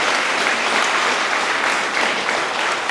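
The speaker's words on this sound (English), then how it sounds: "another big round of applause" Wedding guests give a big round of applause during the speeches, with dense, continuous clapping from a roomful of people at a steady, fairly loud level.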